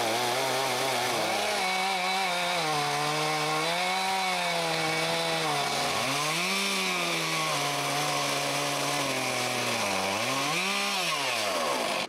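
A chainsaw cuts planks from a large tree trunk, its engine loud and close, droning steadily and bogging down in pitch as it bites, then revving back up twice.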